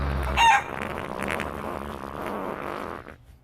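A rooster crowing sound effect, a loud burst at the start followed by a sustained, strained crow lasting a few seconds, then fading out.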